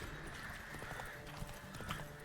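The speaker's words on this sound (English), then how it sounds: "there's just no way of me getting the horse to follow the freaking road or the objective" Horse hooves clip-clopping in the video game The Witcher 3: Wild Hunt, a steady, fairly quiet trotting rhythm with faint background ambience and no talking.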